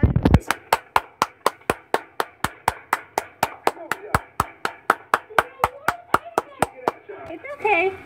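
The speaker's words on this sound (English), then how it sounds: "Everybody clap." Children and an adult clap hands in a steady, evenly spaced rhythm during a kids' movement song, about thirty sharp claps in a row, with faint voices and music underneath.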